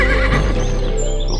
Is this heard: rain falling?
no